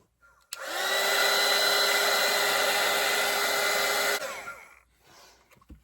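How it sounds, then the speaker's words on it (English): A hair dryer switches on with a loud, steady whirring blast, drying a layer of paint on a painted Santa hat, runs for several seconds, then cuts off and winds down. "So I'm gonna grab my dryer and I'm gonna dry this real quick."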